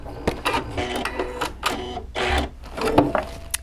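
A sewing machine stitching a back tack on an elastic-eared cloth face mask, running in several short close bursts as it goes forward, reverses, then forward again, with brief pauses between runs.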